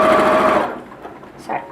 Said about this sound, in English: we're basically just going to sew along this edge, and as you get to the curved area, just curve this strip around it